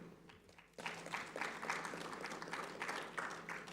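An audience at the 3i Africa Summit 2025 breaks into applause to welcome a new moderator, a moderate wash of many hands clapping that starts abruptly after a short quiet lead-in and carries on steadily at a fairly low level.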